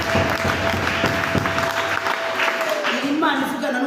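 A church congregation applauds, with dense clapping close by, a voice rising over it, and a tonal sound entering near the end.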